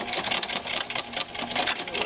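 A sewing machine stitches through the binding of a junk journal, running steadily and fast with a dense, continuous mechanical patter close by, with no pauses.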